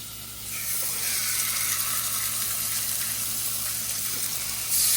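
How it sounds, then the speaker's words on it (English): Bacon and pork chops sizzle steadily in a hot frying pan, a close, loud, continuous hiss and crackle with no speech, swelling slightly at the very end. "Bacon sizzling, pork chop sizzling."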